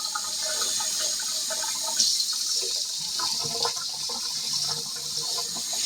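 Running tap water rinses potatoes in a kitchen sink, a steady bright splashing rush that continues for several seconds, close and fairly loud, with no voices.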